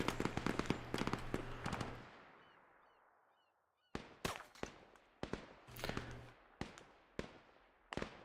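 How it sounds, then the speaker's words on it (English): Gunfire in a co-op military video game: rapid bursts of sharp shots followed by a pause, then several spaced single loud cracks and short volleys, fairly close, with no talking. "Some very annoying bullet noises"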